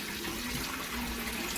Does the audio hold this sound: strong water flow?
yes